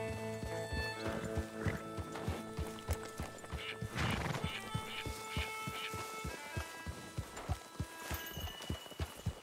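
Horses, including a Mustang, in Red Dead Redemption 2 clop along in a steady run of hoofbeats, and a whinny rises partway through over a faint background hum.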